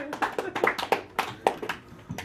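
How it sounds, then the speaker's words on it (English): A small audience giving a round of applause, a dozen or so sparse, distinct claps in an uneven rhythm, fairly close and moderately quiet, with gaps between them. "Can we have a round of applause for the thumbs up and everything it's done for the American people?"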